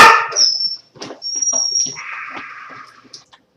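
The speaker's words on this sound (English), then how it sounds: "Sorry about the dog." A dog at home lets out a few loud, close barks and yelps in quick bursts, mixed with high-pitched whining and squeaky cries, with no talk over them.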